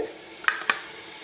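Ginger garlic paste sizzles in a frying pan of hot oil for mutton biryani, a soft steady hiss broken by two sharp scraping stir clicks, close and without talk.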